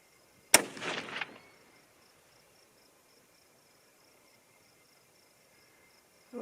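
A single .25-06 Remington rifle shot fired outdoors during load testing, a sharp loud crack followed by a short rolling echo that fades into quiet background insects, with no talking.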